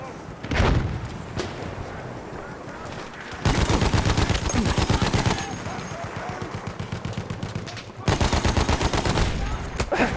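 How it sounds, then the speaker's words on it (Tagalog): Battlefield video game firefight with bursts of rapid automatic gunfire and heavy booms in dense stretches, separated by quieter gaps, with shouting players talking over the action. "Oops, sniper."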